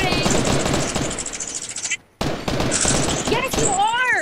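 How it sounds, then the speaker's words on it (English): Video game gunfire rattles in rapid automatic bursts with a brief silent gap, mixed with game sound effects and chirpy electronic tones, loud and dense throughout. "Cooper, stop shooting!"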